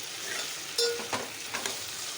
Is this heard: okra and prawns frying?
yes